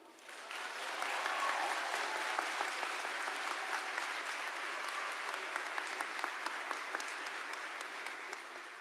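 A graduation audience breaks into sustained applause that swells within the first second and holds steady, a broad wash of many hands clapping in a large hall that fades slightly toward the end.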